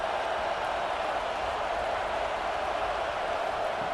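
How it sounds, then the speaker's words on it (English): A packed stadium crowd at a college football game between Alabama and Georgia roars steadily near the goal line, a dense, unbroken wall of distant cheering with no distinct voices. "the crowd really making some noise now"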